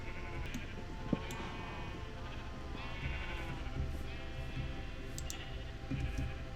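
Sheep bleating in Minecraft survival mode, several short wavering bleats repeating over a steady low hum of game background sound, moderately loud with no talk.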